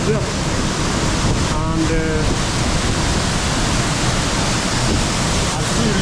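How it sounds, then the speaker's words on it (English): Nyabomite waterfall in Nyanza roars steadily at night during rain, a dense, unbroken wash of noise heard from under a tent, with a voice speaking briefly over it. "amazing sound of the waterfall"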